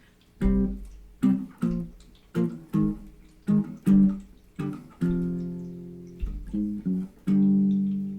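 A distorted electric guitar plays a chugging riff of short, punchy chords in a stop-start rhythm, with a few longer sustained chords ringing out.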